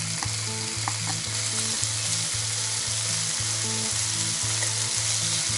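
Kimchi stir-fried with pork sizzles loudly and steadily in a hot pan, a dense frying hiss with a regular rhythmic knocking of stirring underneath, no voices.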